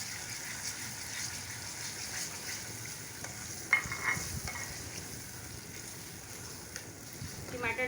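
Chana dal masala frying in a pan as tomatoes are tipped in, a steady broadband sizzle with a brief louder burst midway and soft stirring scrapes, moderately close.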